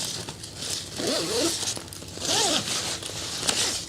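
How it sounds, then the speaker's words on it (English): A zipper on an expandable packing bag is pulled closed in two distinct runs, each a quick rising zip about a second long, close and loud with soft rustling between. "you close the zipper, and then you close the outer zipper while you compress it"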